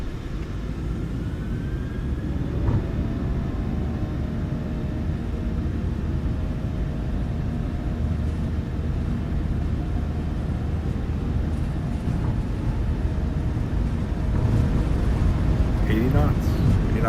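Twin engines of a simulated PMDG 737 in Microsoft Flight Simulator spool up for takeoff as a steady low rumble with a faint rising whine that holds throughout.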